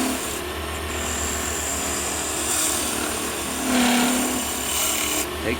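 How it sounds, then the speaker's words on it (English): A detail skew smooths a wooden Christmas tree ornament spinning on a lathe, giving a steady, close scraping rasp with a brief louder swell of cutting near the end and no talk. "I'm just gonna use a little detail skew. And all I'm doing is just smoothing it out."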